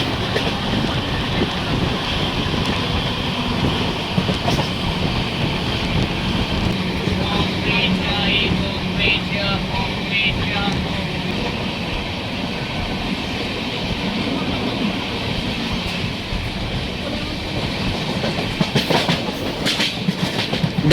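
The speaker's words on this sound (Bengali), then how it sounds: "কারণ এটা সুপারফাস্ট ট্রেন, হাই প্রায়োরিটি, বেশিক্ষণ নেয় না।" The Saraighat Express superfast train runs at speed on its rails, a loud continuous rumble with rhythmic clickety-clack and wind buffeting, heard from inside a coach.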